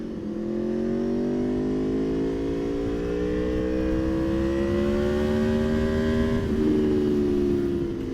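A 2018 Aprilia Tuono V4 motorcycle engine pulls hard, its strong steady note climbing in pitch over several seconds with a brief dip near the end, close and alone with no voices.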